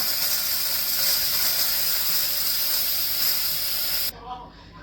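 A pressure cooker boiling cow trotters sends out a loud, steady hiss of steam for about four seconds, then abruptly cuts to quiet rumbling.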